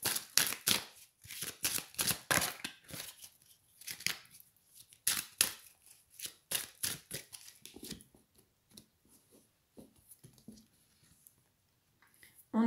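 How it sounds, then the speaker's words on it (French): Tarot cards are shuffled and drawn in a run of crisp, close riffling and slapping bursts, followed by quieter scattered handling sounds. "Alors, je vais demander des cartes supplémentaires pour voir un petit peu."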